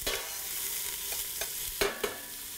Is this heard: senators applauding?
no